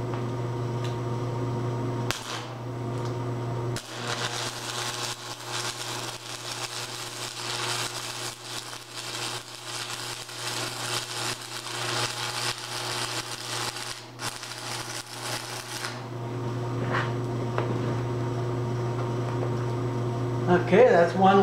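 An arc welder runs a weld while a press brake is being adapted, giving a loud, steady crackling buzz over a low electrical hum, broken by a few short pauses, then stopping into the hum alone.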